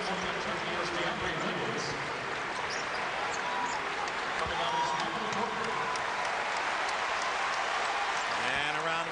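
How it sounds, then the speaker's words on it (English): Crowd applause and cheering fill an arena during a Kentucky versus Central Michigan college basketball game, a steady dense roar that holds for the whole stretch, with a voice talking underneath. "And a round of applause for Michael Porter as he heads to the bench."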